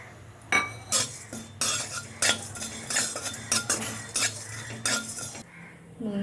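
Whole spices (cumin, coriander, black pepper, cinnamon, cardamom) stirred in a metal pan, with repeated sharp spoon clanks and scrapes in an irregular rhythm, close and fairly loud, no voices.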